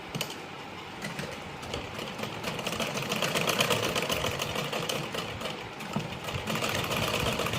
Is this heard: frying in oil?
no